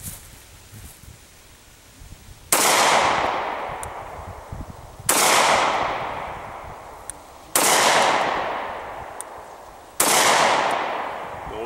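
Four loud, evenly spaced gunshots from a Caracal F 9mm pistol firing HST and Gold Dot 124 grain rounds outdoors at close range, each a sharp crack with a long decaying echo.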